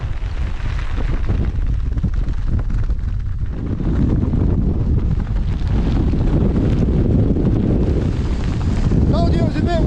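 Strong gusting wind on an exposed mountain ridge in wet weather, roaring constantly and buffeting the microphone with loud, rumbling wind noise from start to finish.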